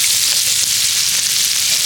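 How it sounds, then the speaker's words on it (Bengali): Chopped onion frying in leftover oil from fried fish, a dense steady sizzle with fine crackle that holds loud and even throughout, with no talk over it. "পেঁয়াজটাকে এখন ভালো করে ভেজে নেব"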